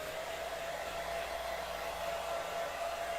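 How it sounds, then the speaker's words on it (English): A pink hair dryer blows continuously at close range, giving a steady, even rushing roar with a faint high whine, and no voices. "he's referring to my hair dryer, which is pink"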